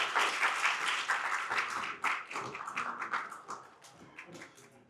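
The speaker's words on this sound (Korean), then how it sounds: "더욱 큰 박수로 맞이해 주시면 정말 감사하겠습니다" An audience at a university anniversary celebration gives enthusiastic applause to welcome a geomungo sanjo performance, dense clapping that gradually thins and fades toward the end.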